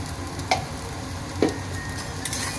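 Ginger garlic paste frying in a pan with softened onion and squid gives a steady, close sizzle, with a few sharp stirring clinks scattered through it.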